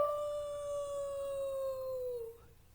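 A single long howl imitating a wolf, a clear sustained tone that slides slowly downward and fades after about two seconds, close and alone.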